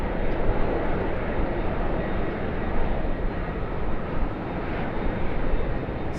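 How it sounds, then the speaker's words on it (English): An Airbus A330 on short final for runway 25 at Sydney Airport, a steady broad jet roar held at even loudness throughout, fairly distant with no voices over it. "So it is an Airbus A330 that's just on a short final now for 25."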